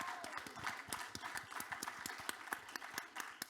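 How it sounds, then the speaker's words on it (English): A crowd claps for a video premiere at a Samsung 837 art event, with quiet, steady, fairly distant applause of many hands and a few sharper individual claps standing out. "we get one more round of applause for the premiere?"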